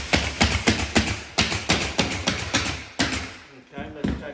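Repeated sharp taps and thuds of a Bullet Striker tapping block being struck while flooring is knocked into place, a rapid series of close, loud hits with brief pauses near the end.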